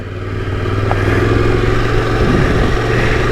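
A Yamaha Tenere 700 adventure motorcycle labors up a hill on a green-lane trail, its engine droning steadily and loudly throughout with rough clatter from the terrain.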